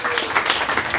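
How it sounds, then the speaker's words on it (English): Brief burst of audience applause at an investor meetup Q&A in Austin, loud close-up clapping from a crowd lasting about a second, with possible voices mixed in. "It's the only place you get a round of applause for that."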